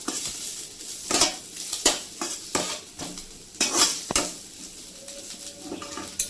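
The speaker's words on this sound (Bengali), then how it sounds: "এখন আমি এই যে করলাটাকে যে ভেজে নিচ্ছিলাম ওটা আমি এই নারকেলের মধ্যে দিয়ে আরেকটু ভেজে নেব" Bitter gourd frying with coconut in a pan, with a steady sizzle under repeated sharp scrapes and clinks of a spatula stirring against the metal, close and clear, with no talking.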